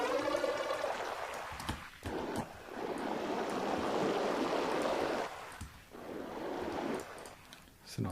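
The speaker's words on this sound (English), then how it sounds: "I'm going to put a grain delay now on this watery one, and that's just kind of going to make it more watery" Processed water sound through a grain delay effect in Ableton, a dense grainy wash of watery noise that swells steadily, with brief dips and gaps, heard alone.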